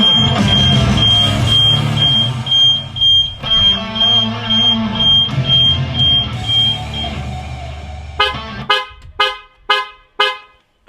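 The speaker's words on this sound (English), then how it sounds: "I think you can see the car alarm has been triggered." A Tesla Model S alarm set off by Sentry Mode blares nearby: a loud continuous siren with a steady high tone, then a series of separate car horn honks in a regular rhythm.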